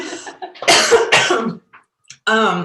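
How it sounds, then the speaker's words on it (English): A few harsh coughs in quick succession, close and loud, with a short throat-clearing sound after a pause. "I was just coughing"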